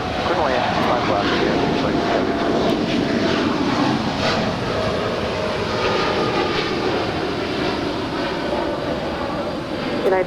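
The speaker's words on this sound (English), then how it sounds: "heavy Dreamliner departing the peril runway" A heavy Boeing 787 Dreamliner jet takes off at LAX with a loud, sustained engine roar and broadband rumble throughout, close and steady, with faint radio chatter beneath.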